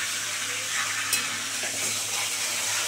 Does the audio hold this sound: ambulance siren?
no